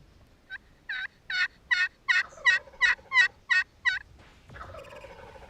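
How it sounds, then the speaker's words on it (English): A wild turkey gobbles about ten times in a quick rhythmic series, loud and fairly near in open woods, followed by a softer rustling, scratchy sound. "he gobbled at us 3 or 4 times"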